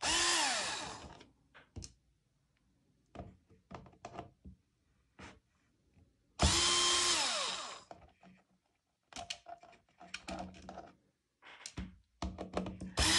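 A power drill backs screws out of a clock, with two loud whirring bursts separated by quiet stretches of small knocks, clicks and handling noises close by.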